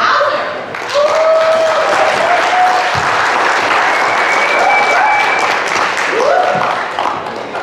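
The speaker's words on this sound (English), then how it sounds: "please give a round of applause for Joe Hauser" Audience applause for a speaker at the ISPP event, a sustained burst of crowd clapping that swells quickly and holds steady, with some cheering voices rising above it.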